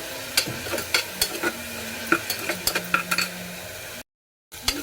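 Onions frying in a pan, stirred with repeated sharp scrapes and clinks over a steady sizzle, close and fairly loud, with a brief drop to silence near the end.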